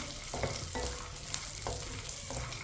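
Fox nuts (makhana) roasting in ghee in a pan, stirred with a spoon, giving a steady soft sizzle broken by several scraping strokes at regular intervals, close and moderately quiet with no talking.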